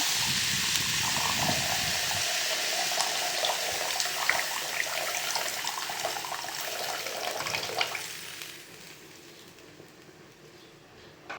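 Water poured into a hot frying pan with fried egg fritters, a loud hissing rush of steam that eases off and fades to quiet near the end.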